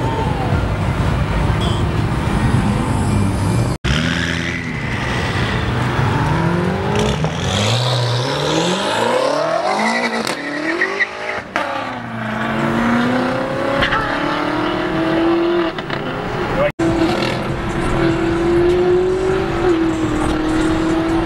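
A Ford Mustang GT revving hard on a street, its engine note sweeping up and down through repeated loud rises and falls, with sharp cutoffs between revs, close and dominant throughout.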